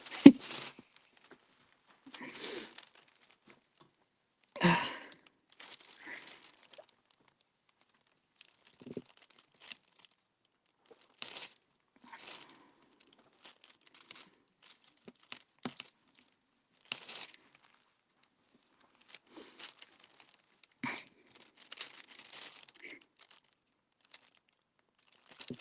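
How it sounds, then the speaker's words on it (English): Sporadic crinkling and crunching of plastic packaging during a diamond painting session, soft and close, in scattered short bursts with a louder crackle near the start and long quiet gaps between. "the crinkling's annoying me"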